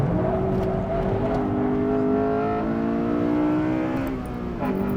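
A stock Honda Civic daily driver lapping a race track, its engine heard from inside as a loud, sustained drone that rises in pitch through the gears and then drops off briefly before picking up again.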